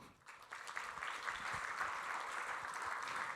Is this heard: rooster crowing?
no